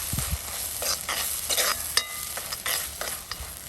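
Squid head and side pieces fry in masala with a close, crackling sizzle, punctuated by several scraping stirs of a spatula against the pan.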